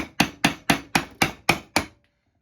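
A chisel struck with a mallet cuts into wood, seven evenly spaced sharp knocks at a steady rhythm, close and distinct, followed by silence.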